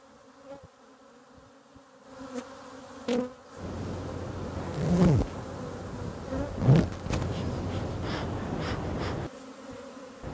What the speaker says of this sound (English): Keeping bees in New York City might sound a little odd